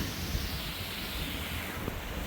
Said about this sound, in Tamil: மழை வேறங்க பாறையில் அடிச்சு ஊற்றிக்கிட்டு இருக்கு